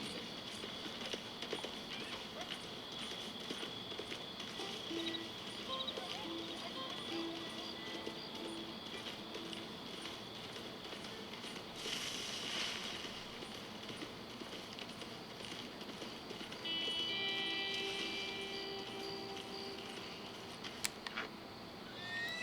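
In Red Dead Redemption 2, a horse's hooves clop along at a steady pace while pigeons or doves coo nearby, with the outdoor ambience holding at a fairly even level throughout.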